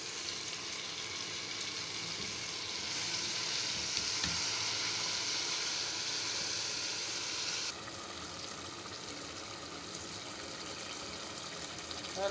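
Potatoes and fenugreek sizzle steadily in a hot pan, a continuous close frying hiss that drops slightly in level partway through, with no talking.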